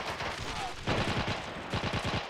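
Machine-gun fire in a Men of War World War II multiplayer match: rapid, evenly spaced automatic rounds rattle in steady bursts, moderately loud and a little distant, with the rhythm continuing throughout.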